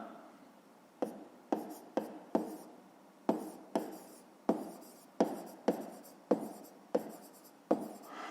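A pen writes a coordinate answer to a fifth-grade math exercise on paper, a close series of about a dozen short scratchy strokes in an uneven rhythm with no talking.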